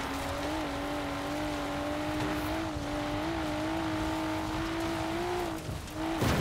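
A car in a Forza battle royale racing game drives with a steady, loud engine drone that holds a constant pitch, with light tire noise over continuous road rumble.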